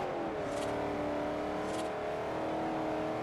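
A Ford Mustang engine in the racing video game Forza Horizon drones at high revs in a steady, loud, continuous whine with no gaps.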